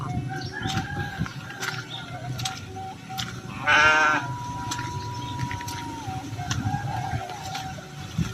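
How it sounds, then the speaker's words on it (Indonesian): Sheep bleat from a pen beside a muddy rural village path in the Sunda countryside of West Java, one strong harmonic bleat standing out amid repeated calls, with roosters and other fowl crowing in the background. "Tuh ada kandang domba sahabat ya."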